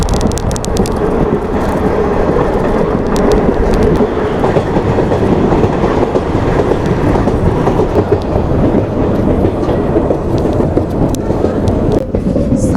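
A train running on the Kashmir line past snow-covered mountains near Srinagar, heard from inside: a loud, steady rumble with rattling and faint clickety-clack throughout, no voices.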